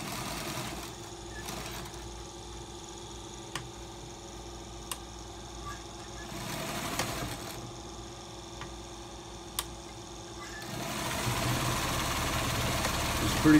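A Pfaff 260 sewing machine runs fast while stitching special stitches, a steady mechanical whir with a few sharp ticks, growing slightly louder toward the end, with no voices.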